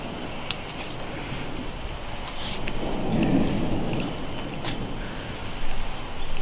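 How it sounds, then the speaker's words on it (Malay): Heavy tropical rain pours steadily near a forest reserve at Bukit Miku, with low thunder rumbling through the downpour and a few faint bird calls above it. "Lebat sampai rumah je terus hujan turun"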